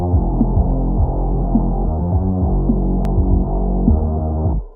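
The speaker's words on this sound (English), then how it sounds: "This is how my song sounds in the low end or low mids." Low end of a heavy Doom Eternal style metal track, a thick throbbing bass drone with regular pulsing hits under a roughly steady rhythm, loud and close, cutting off abruptly near the end.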